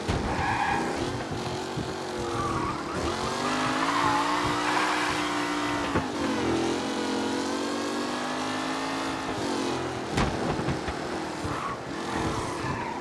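Race cars in a video game race from Mafia: Definitive Edition, engines droning and revving continuously with tire skids, loud and steady throughout.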